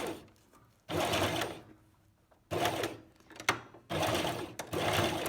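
Sewing machine stitching an invisible zipper, running in three steady bursts of rapid, loud whirring separated by brief quiet pauses, up close with no voices.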